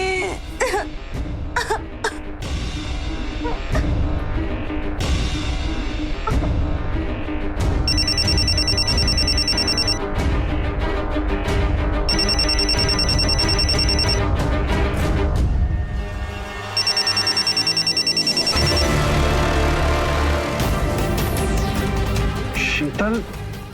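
A telephone rings in repeated bursts of bright electronic trilling amid a dramatic scene, with people talking and coughing and background music playing under the rings.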